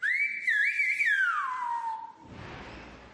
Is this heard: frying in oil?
no